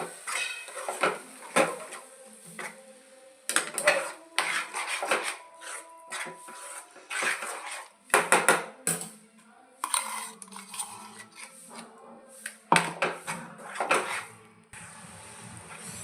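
A spoon scrapes and clatters against a cooking pot as ground paste gravy is stirred into an eggplant curry, coming in irregular bursts of scraping with short pauses and no talking.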